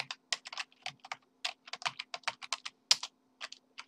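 Fast typing on a computer keyboard, quick irregular bursts of crisp key clicks packed closely together, near and clear over a faint steady hum, with no talking.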